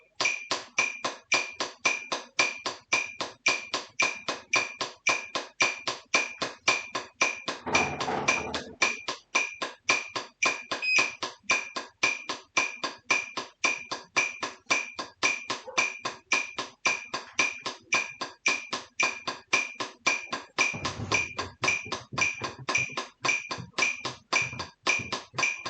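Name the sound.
drumsticks striking drum head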